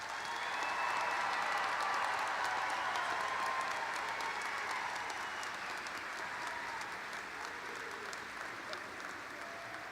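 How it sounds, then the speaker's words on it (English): Sustained, even applause from a large crowd honoring graduates at the Seckman High School 2025 graduation ceremony, a continuous wash of clapping through the whole stretch. "Let's give all of our graduates a round of applause."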